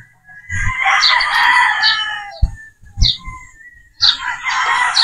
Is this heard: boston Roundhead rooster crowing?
yes